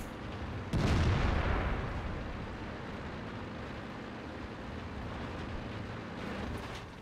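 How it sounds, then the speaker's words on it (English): Artillery fire in World of Tanks: a heavy booming shot near the start, followed by a long rumbling tail and steady low battle ambience throughout, no speech. "Artillery's fired."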